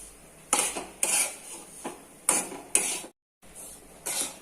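Semolina being dry-roasted in a pan for shira, heard as a rhythmic series of scraping, clinking strokes of a spoon against the metal, with one brief pause.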